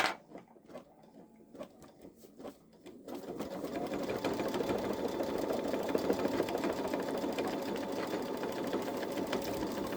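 A Babylock Solaris embroidery machine stitching out a design at home: a few soft clicks, then a steady rapid mechanical stitching rattle that runs continuously and fairly close, with no talking.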